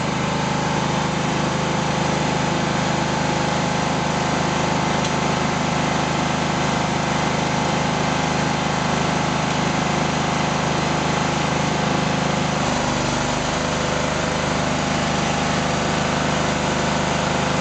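A Toro 3100 mower engine drones loudly and steadily, running hard under load with a slight shift in pitch partway through.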